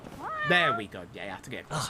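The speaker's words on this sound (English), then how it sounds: "I hear a cat just now." A cat meows in the Judgment video game, a few drawn-out mews in close succession mixed in with someone talking over them.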